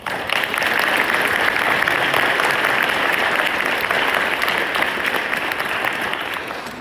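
Sustained applause from an audience at an Army Soldier Recovery Unit headquarters company change of command ceremony, dense steady clapping filling the room for about seven seconds before tapering slightly.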